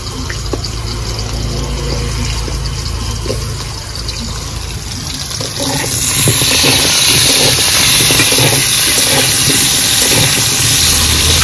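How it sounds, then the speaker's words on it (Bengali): Potatoes frying in hot oil for a Bengali lau shol curry, a steady broad hiss that swells noticeably louder about halfway through, with no voices. "আমি প্রথমে আলু ভেজে নেব।"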